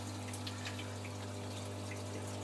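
Aquarium pump running beside a fish tank with an algae scrubber, giving a faint, continuous low hum with soft trickling and dripping water on top, steady throughout with no speech.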